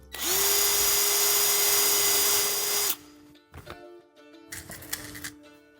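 A power drill drives small screws to mount units during a Cosmo Mini installation. One loud, steady whine lasts about three seconds, then comes quieter clatter and handling knocks.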